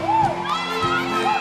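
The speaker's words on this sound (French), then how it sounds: "Des applaudissements pour accueillir Morane" A carnival crowd in Martinique cheers and whoops for a costumed matador parading before the judges, a steady dense roar of voices with shouts rising over it.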